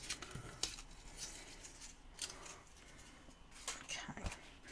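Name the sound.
scissors cutting paper for notebook pouch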